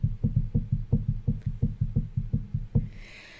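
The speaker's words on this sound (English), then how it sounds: "I was hearing on both doors, like, knock, knock, knock, knock, knock, knock, knock, and like little tiny knocks" Small, evenly spaced knocks, about a dozen in a steady run, like knuckles rapping lightly on a door, fairly close, followed by a soft hiss at the end.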